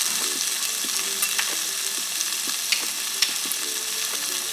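Ingredients for a jerk pasta sauce, with a little sugar and butter, sautéing in a pan: a steady soft sizzle broken by light stirring clicks and scrapes, close by with no one talking.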